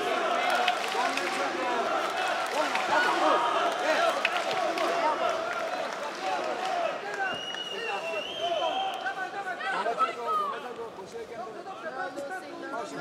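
An arena crowd at an OKTAGON MMA women's fight sustains a dense, rolling roar of cheering and chatter, with a voice speaking over the noise.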